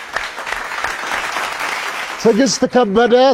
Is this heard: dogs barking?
no